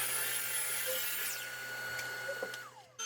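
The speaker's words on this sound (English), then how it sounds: "take them to the miter saw, trim one edge square, flip it over with a stop block," Miter saw trimming a wooden board to length, a loud continuous high whine of the spinning blade with the pitch sliding down as it winds off near the end, close and alone with no talk.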